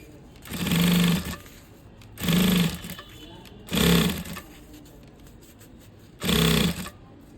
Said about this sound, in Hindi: इस तरीके से हमें सिलते जाना है।